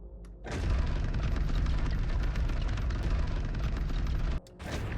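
Ship weapons in a space combat video game fire nonstop at a damaged hull, a dense, loud rumbling barrage of booms that cuts off abruptly near the end and then briefly resumes.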